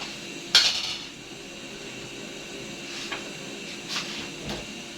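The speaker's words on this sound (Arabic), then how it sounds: "افتح بقى الفرن اهو" A kitchen oven door opens with a sharp metallic clank, followed by faint rattles and light clinks against a low background hiss.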